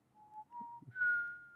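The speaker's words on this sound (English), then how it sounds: "Black hole sound." Eerie rising tones from a black hole sonification, like wavering whistles, sliding upward in pitch and holding a sustained high note, fairly quiet with faint low rumbles underneath.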